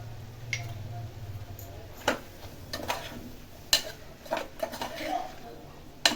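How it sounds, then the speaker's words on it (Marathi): Spoon stirring bottle gourd and chana dal curry in a pan, a handful of short clinks and scrapes spread over several seconds, fairly quiet against a low background hum. "आता परत एकदा व्यवस्थित हलवून घेऊया"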